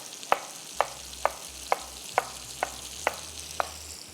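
Thai mango fried rice cooks in a pan with a soft steady sizzle, punctuated by eight regular sharp taps of a spoon or spatula against the pan, close and without talk.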